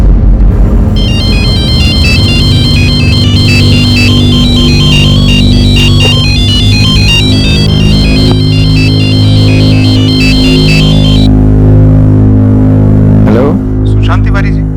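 A telephone rings loudly and repeatedly in a bright electronic ringtone pattern over a dramatic music bed, stopping shortly before the end.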